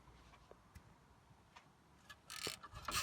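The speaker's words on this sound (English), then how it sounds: "Then you take your socket and try to break them loose." A socket wrench is worked on bolts to break them loose on a Ford Expedition. Faint sparse clicks lead into a couple of louder, brief ratcheting bursts near the end.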